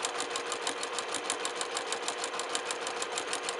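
A sewing machine stitches a line on a quilt block, a rapid, even mechanical chatter that runs steadily at close range with no pauses.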